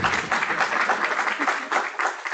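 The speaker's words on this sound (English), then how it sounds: "So let's give him a round of applause" An auditorium audience at an African business ethics meeting gives a round of applause for a speaker, brisk continuous clapping heard throughout.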